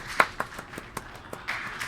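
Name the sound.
golf clap during rocket launch stream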